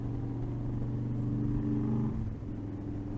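A motorcycle carrying a rider to work hums with a steady low engine drone and rumble, close and continuous with a slight dip near the end.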